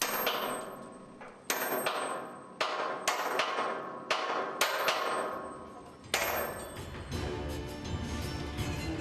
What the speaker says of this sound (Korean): 마스트를 고정하기 위해 연결 홈에 분할핀을 끼우고 바로 망치질이 시작되는데요